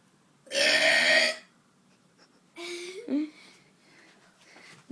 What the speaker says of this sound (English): want to do a big burp